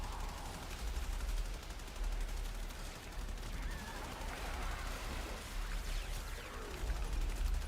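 Rapid weapon fire in the video game Warframe, a dense stream of shots and bursts running continuously under a busy background of game effects, moderately loud throughout.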